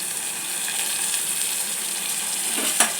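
Ginger garlic paste frying in a pan of chicken curry with a steady, close hiss of sizzling oil, and a faint stir or clink near the end.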